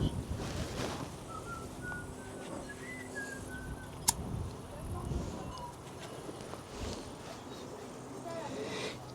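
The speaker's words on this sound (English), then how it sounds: "Too much wind." Outdoor wind buffets the microphone during a summer trip in Switzerland, a low rumbling gusty noise under a speaking voice, with a few faint whistling tones and a brief sharp click.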